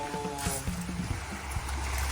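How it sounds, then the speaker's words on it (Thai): Water runs and burbles steadily at a farm fish pond, a continuous close wash with faint low knocks underneath and no talking. "น้ำไหลอยู่นี่"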